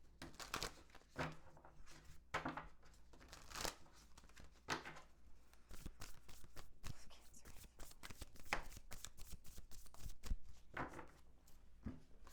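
Tarot cards are shuffled and pulled by hand in repeated crisp riffles and slaps, irregular bursts close to the microphone, with brief rustles between them.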